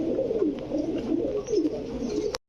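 Red checker racer pigeons coo in soft rolling phrases at close range, a steady low murmur of calls that cuts off abruptly at the end, with no voices.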